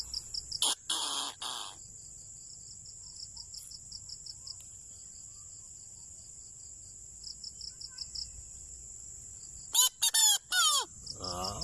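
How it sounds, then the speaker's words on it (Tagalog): Steady insect chirping fills the background, with bursts of chicken calls near the start and again near the end, fairly close. "Murag manok"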